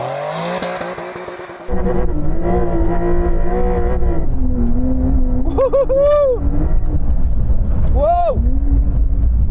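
A Porsche 911 Dakar launches hard on mud, the engine roaring and climbing through the revs with distinct gear changes as the tone drops and rises again, close and loud, while someone shouts in excitement.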